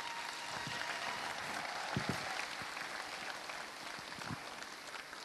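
A church congregation claps and acclaims during a sermon, a dense wash of applause and crowd noise with a few louder bursts, continuing steadily.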